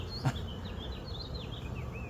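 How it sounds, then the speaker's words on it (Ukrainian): Honey bees buzz around a swarm trap set up on a tree outdoors, a steady low hum with faint birdsong chirping above it. "Бджолки там кружляють"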